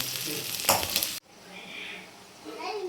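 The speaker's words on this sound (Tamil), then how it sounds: "வெங்காயம் இப்போ நல்லபடியாக வதங்கியிருக்கு" Onions softening in a pan over low flame give a busy sizzle and stirring scrape that cut off abruptly, then a quieter, fainter frying hiss with a soft voice murmuring near the end.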